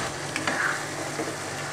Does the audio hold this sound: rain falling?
no